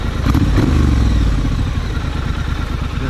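A motorbike rolls in close and pulls into a parking spot, its loud engine rumbling steadily with some clatter and a short rev near the start.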